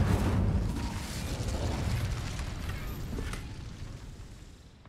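Incendio fire spell cast in the Hogwarts Legacy video game, a loud burst of whooshing flame that flares at the start and slowly fades over several seconds.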